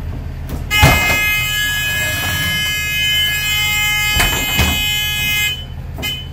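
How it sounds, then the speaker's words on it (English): A school bus emergency door alarm sounds as the door is opened, a loud steady electronic buzzing tone held for several seconds, with clunks of the door at the start and end. "It opens and it closes, and the alarm did sound."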